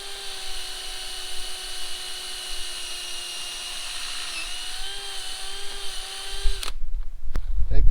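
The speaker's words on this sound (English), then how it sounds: "I'm just going to drill in." A power drill bores into a maple tree for tapping, giving a steady, high whine for several seconds before it abruptly cuts off, followed by low handling noise.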